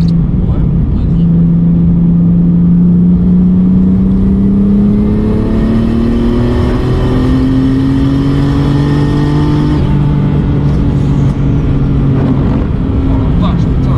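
A car's engine revs hard under full throttle with wheels slipping on wet patches, pitch rising and wavering as the tyres hunt for grip, loud and close throughout.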